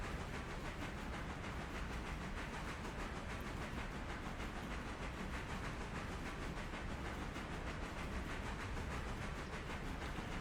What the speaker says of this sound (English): Passenger train still making her way south.